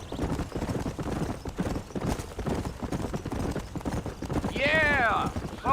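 Horse hooves clip-clopping at a steady riding pace in the video game Red Dead Redemption, rhythmic and close, with a horse whinny near the end and people talking over it.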